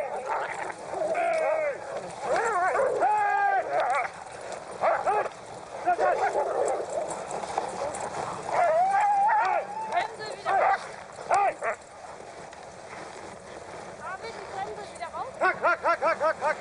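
Excited sled dogs bark, yelp and whine in a dense, loud chorus that sounds close by, with snarling scuffles breaking out among the pack and almost no pause throughout.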